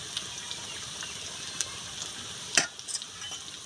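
Potatoes frying in oil in a village Bengali kitchen give a steady, quiet sizzle with a few sharp crackles and one louder pop near the end, alone with no talk.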